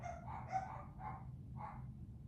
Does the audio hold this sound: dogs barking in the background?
yes